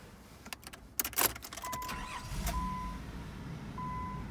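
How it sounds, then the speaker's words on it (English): Nissan Pathfinder engine starting nearby: a few clicks and a short cranking burst, then the engine catches and settles into a quiet steady idle, with a faint chime tone sounding now and then. "Car starts right up."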